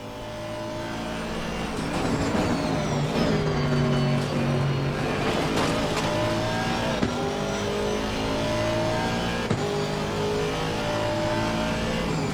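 A GT3 race car in the Assetto Corsa Competizione sim screams through a lap, its engine revving hard with rising and falling pitch through gear changes and corners, loud and continuous throughout.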